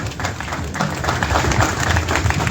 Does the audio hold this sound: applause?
yes